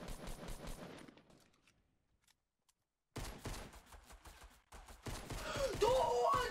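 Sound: gunfire in the video game Fortnite

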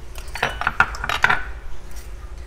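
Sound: stirring cream cheese into a sauce in a pan

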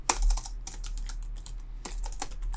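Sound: typing code on a computer keyboard

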